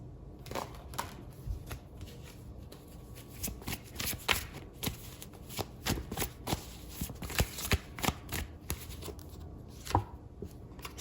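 Oracle cards shuffled by hand in a steady run of crisp, close riffles and taps lasting throughout, with no talking over them.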